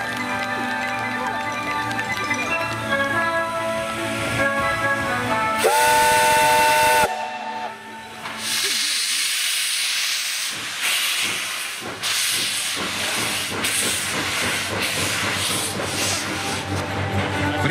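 At a steam locomotive parade in Moscow, an LBM-series steam engine gives a loud, sustained whistle blast, then releases hissing steam in bursts. A narrator's voice and music are heard before the whistle.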